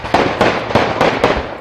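Five sharp gunshots ring out at roughly even intervals in a residential yard, loud and close, each with a brief echoing tail.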